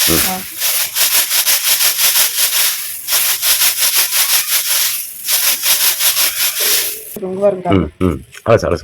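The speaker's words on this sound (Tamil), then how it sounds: "இந்த மாதிரி அலசுறது வந்து சிறுகல்லு அடியில நினைக்கும். பாருங்க அலசி காட்டுறேன்." Ragi (finger millet) grains being swirled and washed by hand to settle out small stones, giving a steady, close rhythmic swishing and rubbing that runs for several seconds, then gives way to a brief voice near the end.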